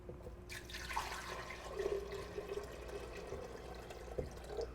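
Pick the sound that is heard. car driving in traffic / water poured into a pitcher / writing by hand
water poured into a pitcher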